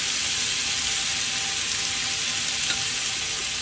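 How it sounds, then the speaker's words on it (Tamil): Prawns shallow-fry with masala in a pan, giving a steady, close, even sizzle that runs unbroken throughout with no voices. "இப்போ ப்ரான் ஃப்ரை ஆகிட்டுருக்கு"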